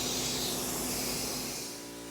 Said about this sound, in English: we'll come down and spray the inside part of the cabinet